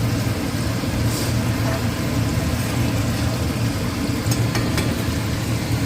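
Fish pieces fry in a pan for fish curry, a dense continuous sizzle heard up close with a few faint clicks and no talking.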